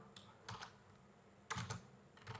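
Fingers tap a computer keyboard in short, quiet bursts of a few keystrokes each, separated by brief pauses, with no talking.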